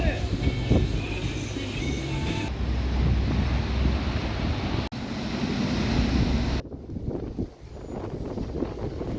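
Surf and wind at Moffat Beach, Caloundra, an unpatrolled stretch, roll steadily through the whole stretch, with gusty microphone buffeting and a brief dropout near the middle, and people talk faintly underneath.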